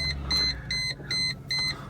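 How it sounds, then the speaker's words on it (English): A 2001 Mercedes-Benz SL500 roadster's warning chime beeps four times in an even rhythm, clear high tones with short gaps between, close by and without speech. "now it does beep at you. Listen to that."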